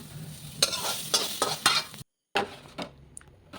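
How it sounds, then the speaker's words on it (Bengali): A ladle stirring dal in a metal pot gives repeated scraping strokes and clanks over a wet bubbling sizzle, with a brief silent gap before a few more scrapes. "তারপর একটু হাতা দিয়ে নাড়াচাড়া করে দিচ্ছি"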